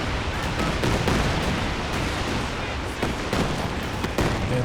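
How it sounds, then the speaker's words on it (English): A Calliope rocket barrage in Company of Heroes 2 on the Port of Hamburg map: a continuous, loud rattle of rapid launches and impacts with sharp repeated cracks throughout, no voices over it. "Calliope barrage"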